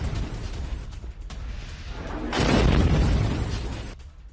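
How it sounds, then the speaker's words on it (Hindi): Bombing on the outskirts of Beirut: a low, rumbling roar of an explosion swells to its loudest midway, then slowly fades over several seconds, with lighter distant rumble before it. "बेरूत के बाहरी इलाकों पर यह बमबारी हुई है"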